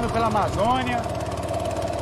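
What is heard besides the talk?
longtail outboard boat motor on an Amazon river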